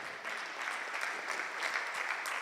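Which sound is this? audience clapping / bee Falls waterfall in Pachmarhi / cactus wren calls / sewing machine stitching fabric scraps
audience clapping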